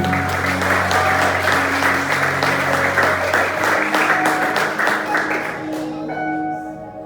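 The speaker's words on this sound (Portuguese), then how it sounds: "Dá uma salva de palmas para o Senhor." A church congregation claps together in sustained applause during a worship service, dense and steady before fading slightly, with a voice speaking over it.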